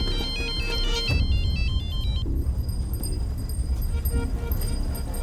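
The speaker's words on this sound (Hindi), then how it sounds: "फोन आ रहा है आपका" A mobile phone plays a bright, repeating melodic ringtone in a short looping pattern, clear and fairly close over a low background rumble, with the tune continuing more faintly later.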